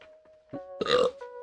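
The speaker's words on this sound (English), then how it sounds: "Sorry, I had to burp a little bit" A single short, close burp from a person, quiet and throaty, rises and fades within about a second with brief silence around it.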